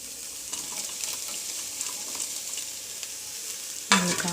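Egg cabbage podimas sizzles steadily in a pan while being stirred, with green chillies added, a continuous close frying hiss with occasional spoon scrapes and a sudden louder splash of sizzle near the end.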